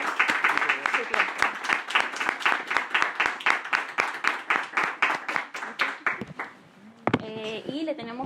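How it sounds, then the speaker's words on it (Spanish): Audience applause for a visiting professor at a student theological café gathering, brisk rhythmic clapping in unison for about seven seconds, then a voice begins speaking as it ends. "Vamos a darle un aplauso al profesor y con esto agradecerle su tiempo"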